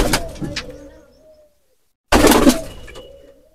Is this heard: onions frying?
no